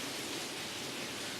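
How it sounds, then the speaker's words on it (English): Dense, even rush of heavy rain pouring onto a roof, a constant hiss with no breaks or voices. "The rain is coming down so thick you wouldn't believe it."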